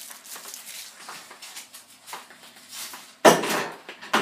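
Parmesan being stirred into shrimp risotto in a pot off the heat, with soft scraping and clinks through most of the stretch and a louder burst of metal-on-pot clatter near the end.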